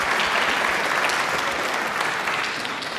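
A conference audience at CPAC Hungary claps steadily, a thick and continuous wash of many hands that stays loud for a few seconds and tapers a little at the end.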